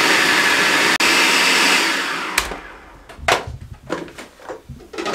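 Electric chopper running steadily as it finely chops bread, green chillies and coriander, a loud whirring that winds down after about two seconds, followed by several clunks and knocks of the container.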